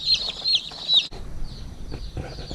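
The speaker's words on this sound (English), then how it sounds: "All the chicks are now in the brooder." A brooder full of about two hundred newly delivered baby chicks gives steady, dense high peeping throughout, close and fairly loud, with rustling and movement beneath.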